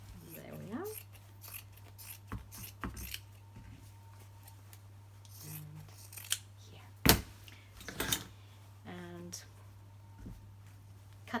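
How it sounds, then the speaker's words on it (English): Scissors snip through craft pieces in scattered short cuts, close and fairly quiet, with a few louder crisp snips and a voice speaking in between. "Cut these the same way we cut the other ones."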